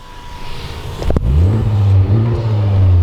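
A turbocharged 2020 Honda Civic Type R engine fires up and revs, settling into a deep, loud rumbling idle that holds steady close by.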